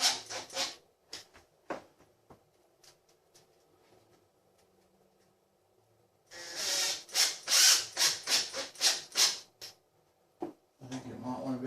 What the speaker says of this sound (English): Now the instructions say screw these in and leave about 7mm sticking out.